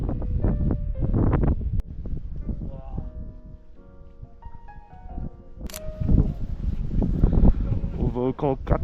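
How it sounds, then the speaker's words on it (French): Strong wind gusts on Kilimanjaro roar and buffet the microphone in loud bursts, with people talking through and over the blustery noise. "Putain le vent c'est une folie."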